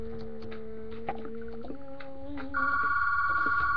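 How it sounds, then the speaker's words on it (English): A telephone rings on a house-building site, a warbling electronic tone that changes pitch in steps and then settles into a steady high ring, with faint work noise underneath. "Phone interruption."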